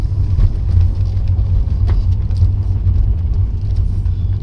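A BMW 535i with an Alpina-spec V8 drives along, its engine a steady, deep rumble heard close from inside the car, with a constant low drone and no speech.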